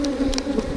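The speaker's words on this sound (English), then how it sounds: "More bees coming out of their cells here." Bees hum around an opened hive during a brood-frame inspection, a close, steady buzz with a few sharper passing wingbeats from individual insects.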